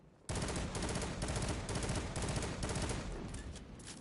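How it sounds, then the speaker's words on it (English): Lord of Wolves gun from the Destiny video game firing while aimed down sights, a loud, continuous rapid burst of shots with a steady pulsing rhythm that starts abruptly and runs for several seconds. "So I'm going to show you what it looks like when you're shooting it while aiming."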